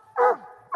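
Hunting dogs bark at a raccoon treed beside a big creek at night, two loud close yelping barks separated by a brief pause with a faint whine between them.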